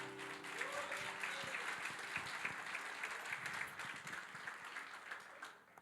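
Church congregation applauding: a steady wash of clapping from a crowd, fairly faint and distant, holding evenly before fading out at the end.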